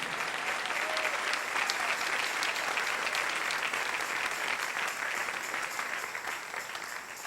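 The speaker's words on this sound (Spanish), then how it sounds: "Dale ese aplauso al Rey en esta mañana." A church congregation at a morning service bursts into sustained clapping, a dense, even roar of hands that holds for several seconds and eases slightly at the close, with no speech on top.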